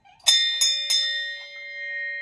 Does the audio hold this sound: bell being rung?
yes